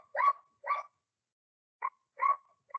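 A pet dog gives four or five short, clipped barks or yips, spaced irregularly with silent gaps between them, fairly close and alone without talk.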